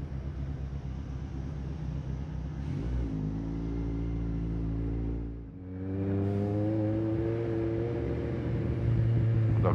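A bus passing close by with a loud engine drone and rising whine as it accelerates, a brief dip as it shifts gear, then climbing again in pitch and volume.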